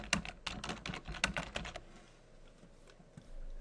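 Typing on a computer keyboard while setting up a VMware vSphere 5.5 upgrade: a quick run of crisp, close keystrokes, then a few scattered, softer taps.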